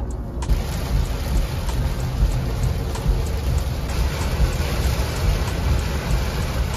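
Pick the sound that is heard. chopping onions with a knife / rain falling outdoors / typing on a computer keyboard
rain falling outdoors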